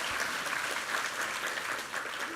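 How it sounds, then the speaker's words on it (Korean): Applause from a church congregation at a Sunday morning worship service, a steady, dense wash of many hands clapping throughout, fairly close and even in level, with no talk over it. "우리 하나님께 감사와 영광의 박수 올려드리겠습니다"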